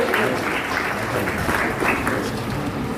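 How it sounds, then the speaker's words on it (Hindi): An audience at a student award ceremony claps steadily, a dense, loud wash of applause that rises and falls in small waves over the full stretch. "तालियों का सिलसिला रुकना नहीं चाहिए"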